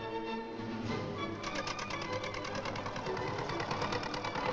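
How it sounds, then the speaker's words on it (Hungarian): Farm tractor towing a line of loaded trailers at a railway level crossing, a steady rattling engine chug with rapid knocking pulses that grow slightly louder and busier toward the end, heard alone. "Ez a pótkocsikat vontató traktor mégis megáll."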